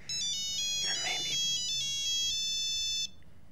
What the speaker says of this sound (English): she lies down and the phone rings